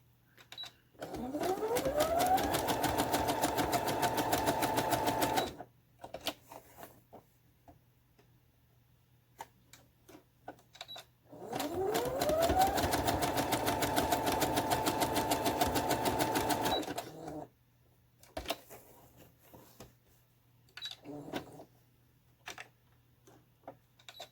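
A sewing machine stitches a fabric banner in two rapid, steady whirring runs of several seconds each, close and clear, separated by quiet pauses with a few light clicks and ticks.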